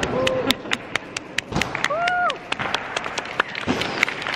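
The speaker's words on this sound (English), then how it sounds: "Let's start the clap." Scattered, uneven hand claps from a small group, with voices and a brief whistling tone mixed in.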